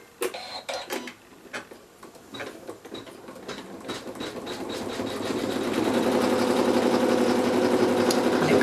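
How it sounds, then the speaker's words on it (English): Embroidery machine sewing the final colour of a design, starting with scattered clicks and taps, then settling into a loud, steady rapid stitching hum that builds and holds to the end. "pop it back in the machine and stitch the very last colour."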